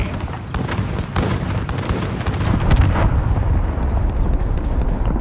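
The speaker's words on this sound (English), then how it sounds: "Allied cruise missile away." A cruise missile strike in Call of Duty Modern Warfare lands as a heavy, rumbling explosion that swells and rolls on as a dense roar for several seconds, loud and close, with no talk.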